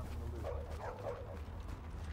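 A dog in Tom Clancy's Heartland gives a few soft barks and yips, quiet and fairly distant, over a low steady game ambience.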